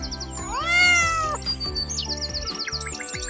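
A cat lets out a single rising and falling meow over steady background music, followed by faint chirping, bird-like calls.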